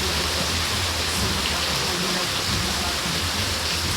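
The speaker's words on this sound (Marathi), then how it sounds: "रात्रभर पाऊस चालू आहे." Heavy monsoon rain pouring through the night in Mahad, a dense, unbroken roar of water that stays loud and even throughout.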